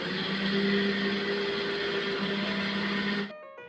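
An electric blender whirs steadily as it blends sugar with a little water, a loud constant motor hum that cuts off sharply just before the end, leaving brief quiet clatter.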